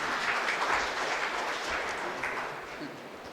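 Audience applause at the opening day of a Brahma Kumaris stress-relief programme, a dense, even wash of clapping that holds steady and then tapers slightly toward the end.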